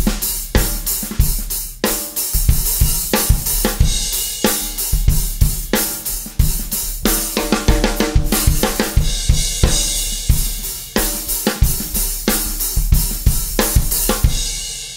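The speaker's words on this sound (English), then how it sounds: "a lot of guys play the hi-hat way too loud" Rock drum groove where the hi-hat is played too loud, a busy bright wash of cymbal ticks over the kick and snare, steady and close with no voices.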